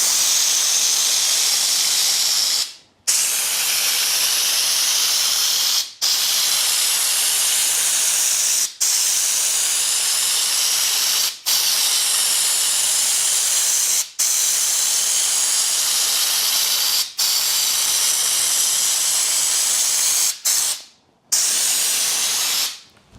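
An air compressor runs after spray painting with Raptor coating, giving a loud, steady hiss of air. Brief dropouts break it about every three seconds, with a longer gap near the end, and no one speaks.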